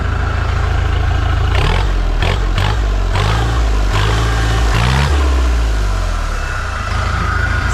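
A loud diesel engine of a Scout TE-504 tractor runs close by, warming up with a deep, throbbing idle and a few brief revs and clattering surges.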